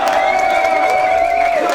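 Crowd at a Don't Flop rap battle cheering for a rapper, a dense roar of voices with a sustained whoop or shout riding above it for nearly two seconds, close and loud.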